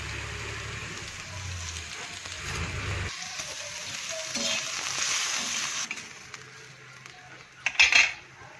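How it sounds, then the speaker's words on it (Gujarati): Onion frying in oil on a flat tava makes a sizzle with metal scraping and clinks of a spatula. The sizzle fades midway, and a burst of utensil clatter comes near the end, with no speech. "તો પહેલાં ડુંગળી આપણે શેકી કાઢીએ"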